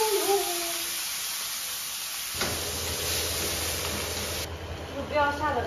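Noodles stir-fried in a little oil in a home kitchen pan, a steady sizzling hiss that swells partway through and holds loud and close.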